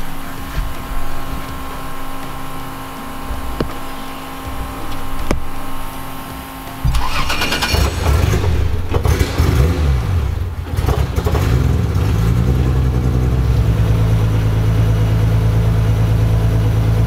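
Toyota Supra engine cranks over and catches about seven seconds in, then settles into a steady, close idle after a few uneven revs, preceded by a faint electrical whine and a couple of clicks.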